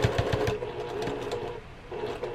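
A sewing machine stitches a cushion cover, its fast steady needle rhythm running continuously and close for a couple of seconds.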